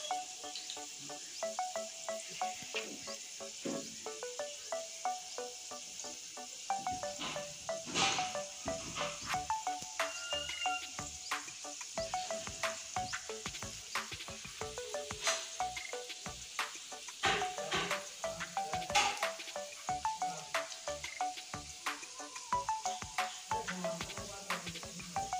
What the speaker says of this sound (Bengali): এখন একে একে ছেড়ে দিচ্ছি তেলে।